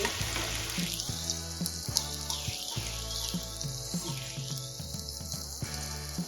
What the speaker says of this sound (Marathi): इथे आपल्याला कांदा गोल्डन कलर येईपर्यंत तळून घ्यायचा आहे